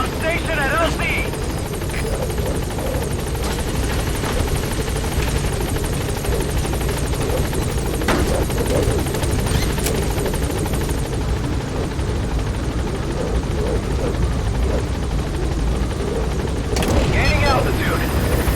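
A helicopter hovers at a landing zone in Metal Gear Solid 5, its rotor wash and engine roar loud and continuous throughout, with radio voices talking over it.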